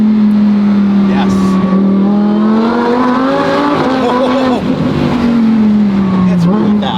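A supercharged Lamborghini STO, driven hard with its traction aids switched off on warm tires, roars loud and close with a sustained engine drone that rises and dips, mixed with squealing tires, while voices talk over it.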